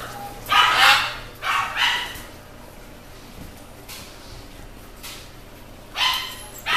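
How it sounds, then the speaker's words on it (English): A toy poodle barks in short bursts of two or three yips, fairly close, with quiet gaps between them and a soft background hum. "And Tootsie, my little toy poodle, barking in the background"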